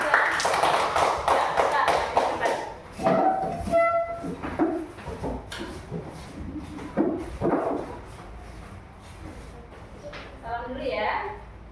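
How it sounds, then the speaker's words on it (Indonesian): Students in a classroom clap for a group, producing a burst of scattered hand claps and taps that thins into occasional claps, with people talking nearby. "Tepuk tangan dulu buat kelompok 3."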